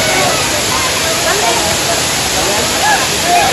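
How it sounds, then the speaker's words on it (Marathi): A steady, dense roar of a waterfall pouring down a fort trail in heavy rain at Raigad fort fills the whole stretch, close and loud, with no pauses, faint voices barely rising above it. "वरनं पाणी येते वाटेवरून खाली."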